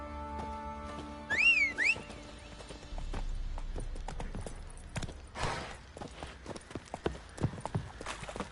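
Roach the horse in The Witcher 3 trots along with rhythmic clip-clop hooves, preceded by a short rising whistle and a brief whinny, then hooves continue at a steady pace up close.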